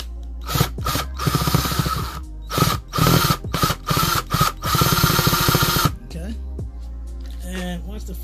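A power drill with a screw extraction kit bites into a screw, running in repeated short whirring bursts with brief pauses, close and fairly loud, then stopping as someone talks in the quieter gap afterward.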